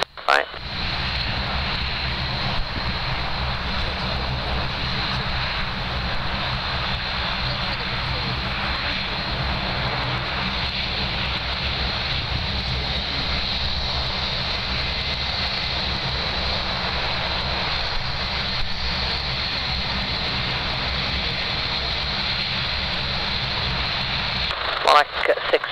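An Airbus A321 jet powers up for takeoff on runway 23R at Manchester Airport, a loud, steady broadband engine roar that holds for over twenty seconds, with brief clicks at the start and end.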